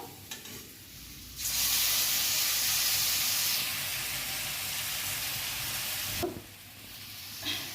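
Ground spice paste for Kashmiri dum aloo goes into a hot pan and sizzles loudly, a sudden steady hiss that runs for several seconds, then eases before a second burst near the end.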